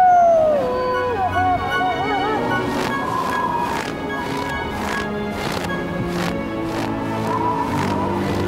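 A wolf howls in a dramatized Spanish-language scene, a long wavering cry rising over a steady bed of music and sustained tones that fills most of the passage.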